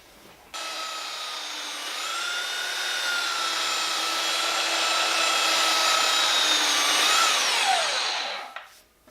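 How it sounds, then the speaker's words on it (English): A belt sander shaping the edge of a wooden piece runs as a steady, loud, close whine for about eight seconds, then winds down at the end. "I'm going to take my belt sander and do my best to"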